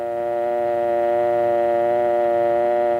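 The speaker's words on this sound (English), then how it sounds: "Then remove the receiver and listen for the dial tone." A steady, unbroken dial tone from a dial telephone on an old instructional recording, loud and continuous through the whole stretch with no voices.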